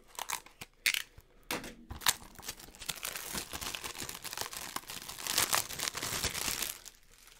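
Crinkling and tearing of plastic wrap while a Blu-ray case from Paramount Pictures is unwrapped, close and irregular, with sharp crackles and rustles and no talking.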